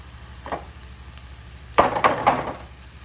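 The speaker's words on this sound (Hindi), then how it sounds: "मसाला मेरा दाल में डालने का हो रहा था, मतलब दाल छौंकने की हो रही थी" Spices hitting hot oil while tempering dal on a rustic clay stove, a short sizzle followed by a louder, crackling burst of frying that fades over a couple of seconds, close and alone.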